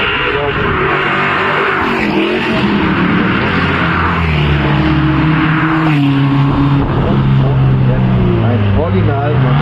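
Classic Porsche race car in turquoise at the Solitude Revival historic event, engine droning and shifting pitch as it drives past at close range, loud against crowd and track ambience.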